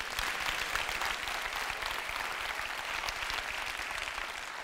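A crowd applauds steadily and loudly, a dense wash of clapping that holds at an even level from start to finish.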